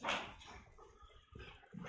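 A dog at a veterinary clinic gives a short, faint bark followed by soft whimpering yips, alone with no speech.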